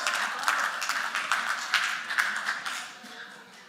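Church congregation at a Sunday gathering claps in a brief, uneven patter of hands, several sharp bursts that thin out and fade over a few seconds.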